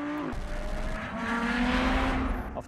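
Supercars drag racing over a quarter-mile strip, including an Audi R8 V10 Plus with 610 horsepower: a loud engine note dropping at a gear change, then climbing steadily as revs build, close and unaccompanied by voices.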